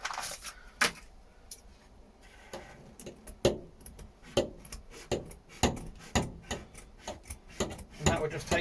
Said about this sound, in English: Get in your scissors then.